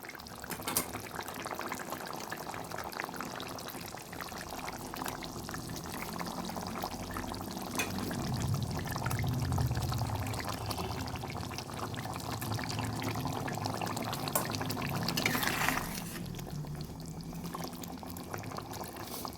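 Pieces of katla fish go one by one into a pan of boiling curry, with a steady bubbling simmer and soft splashes throughout and no talking.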